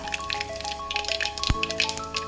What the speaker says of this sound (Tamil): சீரகம் கடுகெல்லாம் பொறிஞ்சிருச்சு